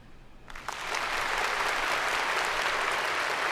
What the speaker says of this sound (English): Can you hear that applause, by the way?